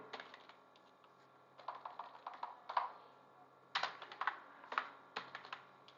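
Fingers type on a computer keyboard in quiet, irregular clusters of soft clicks and taps, with short pauses between bursts.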